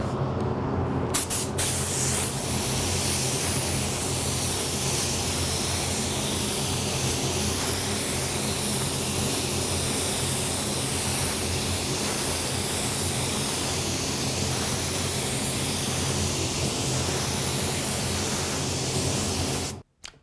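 A spray gun lays down a coat of Createx AutoBorne sealer in a continuous loud hissing spray that runs almost twenty seconds without break, then cuts off abruptly at the end.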